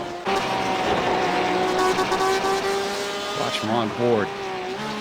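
A Porsche GTE race car in iRacing at the Mid-Ohio Sportscar Course roars then slams into a wall with a sharp impact, followed by scraping and lurching engine tones, while a commentator talks over it.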